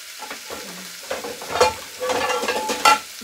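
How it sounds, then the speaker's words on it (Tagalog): Onions fry and get stirred in a saucepan for ratatouille, a soft sizzle with scraping stir strokes, close and fairly quiet, no talking. "Let's cook the onion."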